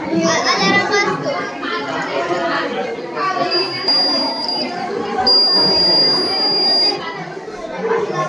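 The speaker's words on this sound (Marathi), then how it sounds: "जेव्हा कोणी घरामध्ये प्रवेश करतो तेव्हा एक अलार्म असतो." A home security alarm buzzer built as a school science project sounds in two steady high-pitched beeps at a crowded science exhibition, partly under the constant chatter of children and a nearby speaker.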